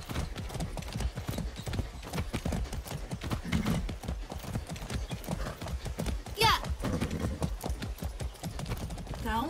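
A horse gallops in the video game Far Cry 6, its hooves pounding in a rapid, continuous rhythm, with a brief whinny partway through, while a voice speaks over it.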